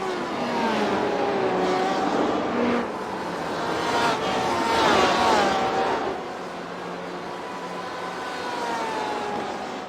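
Race cars on the Charlotte Roval in a racing video game, including a Ford and Porsches, whine and rev continuously in a pack, with pitch rising and falling as they accelerate and pass.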